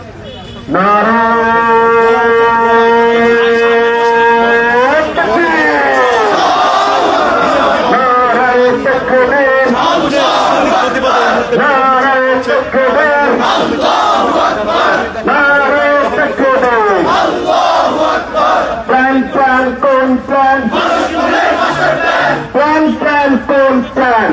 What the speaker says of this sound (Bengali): ক্রমাগত আমরা দেখতে পাচ্ছি বিভিন্ন রকম স্লোগান